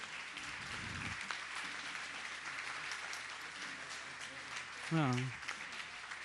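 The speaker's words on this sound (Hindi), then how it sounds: "पूरी समाज आप तालियां बजाकर स्वागत करिए" Faint, continuous clapping comes from a hall audience at a Jain religious gathering welcoming honoured guests, with a brief spoken word near the end.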